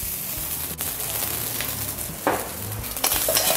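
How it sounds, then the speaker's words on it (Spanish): Rice sizzles and crackles steadily in a hot frying pan while being made into Korean fried rice, with brief stirring scrapes along the way. "Agregamos el arroz a la sartén."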